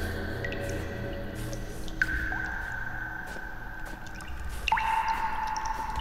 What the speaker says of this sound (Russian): Офигеть, какое звучание воды.